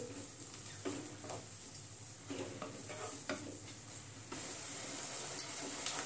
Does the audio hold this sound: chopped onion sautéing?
yes